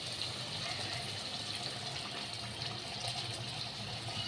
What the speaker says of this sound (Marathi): मी एवढं पाणी टाकणार आहे